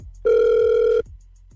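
A telephone rings during a radio show call, one long steady electronic tone of nearly a second, loud and clear with nothing else over it.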